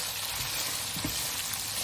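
Pixian chili bean paste stir-frying in hot oil with Sichuan peppercorns, dried chilies, scallion, ginger, garlic and onion: a steady close sizzle with light scraping stir noises, no talking.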